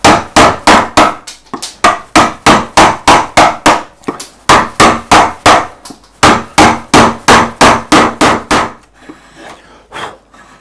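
Repeated sharp mallet strikes drive a gouge across the grain of a wooden carved shirt tail, about two dozen evenly spaced close knocks in steady bursts with brief pauses, loud and with no voices.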